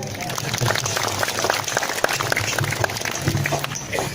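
Audience applause during an Indonesian religious talk on shalawat, a steady wash of many hands clapping through the whole stretch, fairly close and even, with a low murmur underneath.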